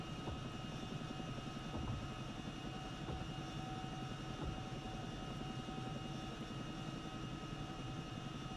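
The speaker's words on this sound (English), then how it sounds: "The Chinook" A Chinook helicopter in a military video game drones steadily throughout, a constant rotor and engine roar with fixed tonal hum, close and unbroken with no talk over it.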